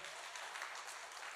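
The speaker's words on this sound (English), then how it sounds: "Come on, clap real loud." A live audience claps hands loudly at a motivational speaking event, a steady dense wash of applause sustained throughout.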